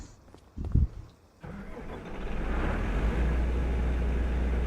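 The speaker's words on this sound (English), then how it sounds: "Oh wow, that's a beautiful engine sound." A tractor engine in Farming Simulator 25 cranks after a few clicks, then settles into a loud, steady, deep idle rumble.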